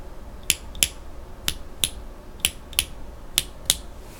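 Mechanical keyboard switches with Panda switch tops being pressed and released, eight crisp clicky clacks in evenly spaced pairs, fairly close and quiet with no talking.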